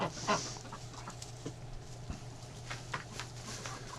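A hen chasing ducks in a farmyard duck pen, heard as faint, scattered clucks and bird calls over quiet background rustling.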